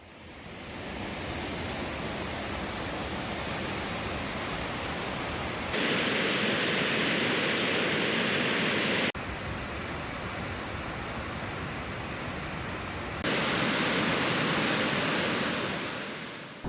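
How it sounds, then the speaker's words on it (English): Steady, loud roar of a waterfall just below Flagstaff Lake in the Maine backcountry, a dense continuous rush of water that shifts in tone partway through and carries on without any voices. "you're going to be able to see awesome sights like the falls here just below Flagstaff Lake"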